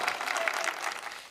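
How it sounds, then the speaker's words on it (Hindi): An audience at a poetry recital applauds, with dense, close clapping that holds briefly and then starts to fade. "एक बार आगे से पीछे तक अपने लिए जोरदार तालियां बजाइए"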